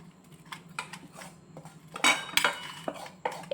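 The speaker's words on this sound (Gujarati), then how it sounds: "અને મિક્સ પણ કરતું આવવાનું છે ભેગા ભેગું" A spoon scrapes and clinks against a pan while mixing poha just doused with tempering, giving irregular metallic knocks and scrapes that build to a louder flurry midway, with no talking.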